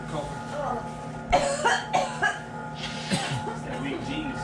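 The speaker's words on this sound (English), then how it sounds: "Everybody sneezing and coughing." Several people cough in short bursts, with a sneeze-like burst among them, while making homemade sausage with strong spice fumes; voices talk throughout and the coughs cluster near the middle.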